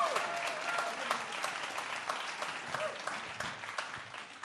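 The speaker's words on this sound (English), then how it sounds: "Everybody else, give us a big cheer." Audience at a comedy club breaking into steady applause and cheering, a dense patter of many clapping hands with scattered whoops, sustained throughout at moderate distance.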